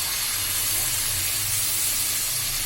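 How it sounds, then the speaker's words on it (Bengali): Spice paste sizzling hard as coconut milk is poured in while cooking a prawn kofta curry, a loud, steady, close hiss that holds evenly throughout. "প্রথমে মশলাটাকে ভালো করে কষানোর জন্য আমি একটু নারকেল দুধ দিলাম"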